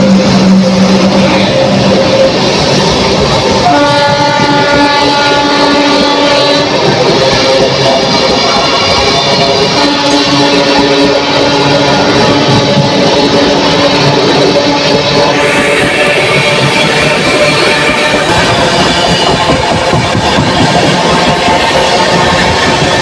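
A train pulls out of Chunar Junction with a loud, steady roar of engine and running gear that holds throughout, overlaid by sustained tonal whines and horn-like notes that shift partway through.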